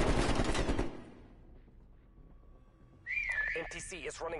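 A sharp, rising whistle in a tactical shooter video game sounds loud and close near the end. It follows a stretch of quieter game ambience, and gunfire-like noise and voices come before it.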